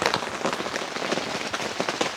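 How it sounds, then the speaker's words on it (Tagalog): Heavy rain pours steadily onto an outdoor campsite by a lake, a dense, close, continuous hiss and patter with no voices over it. "Malakas ang ulan."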